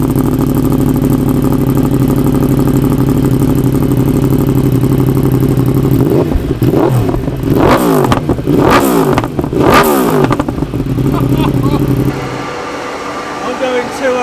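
Yamaha R1 with a full Akrapovic Evo exhaust, baffle removed, running on a dyno: a steady loud engine drone builds into several sharp revving bursts, then the engine drops away toward idle near the end.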